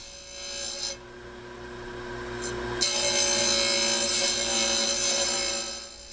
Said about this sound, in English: Be very careful when grinding a knife.